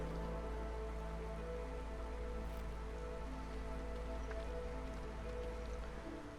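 Steady rainstorm in the video game Against the Storm, a dense, even hiss of rain on surfaces with scattered drips and a low constant rumble, continuous and fairly faint throughout.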